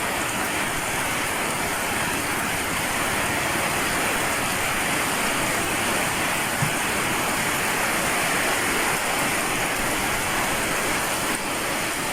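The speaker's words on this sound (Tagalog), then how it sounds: "Yung sapa, lumalaki na naman." A creek swollen after heavy rain rushes past nearby in a loud, continuous broadband wash of churning water, steady and unbroken from start to finish.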